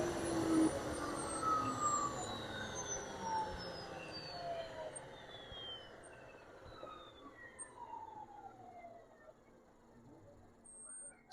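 A 1963 Chrysler Turbine Car's gas turbine engine winding down after shutdown, a loud jet-like whine with several high tones sliding steadily downward and fading over about eleven seconds.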